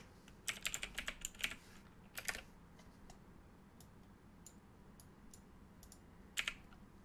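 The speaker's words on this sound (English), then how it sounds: "if I can type" Bursts of quick clicky keystrokes on a computer keyboard, close and fairly quiet, in two short runs with a pause between, then a final brief flurry near the end; no speech.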